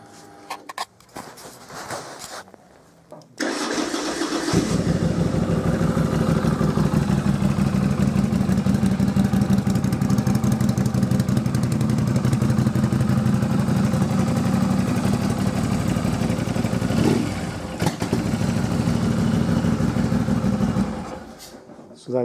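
A Norton Dominator 961 motorcycle parallel-twin engine starts and then runs at a steady, loud, close idle with an even throbbing beat for about sixteen seconds before shutting off, with brief talk before it starts.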